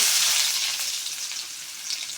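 Small fish, taki or shol, frying in hot oil in a wok set on a stove, giving a loud, steady, close sizzle that runs throughout with no talking.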